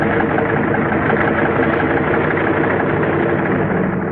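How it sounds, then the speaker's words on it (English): Bomber aircraft engines warm up on an airfield flanked by mountains in the Aleutians, a loud, steady, dense engine roar with no breaks, heavily muffled in its upper range. "The sound of the engines warming up starts before dawn, echoing back from the mountains that flank the field."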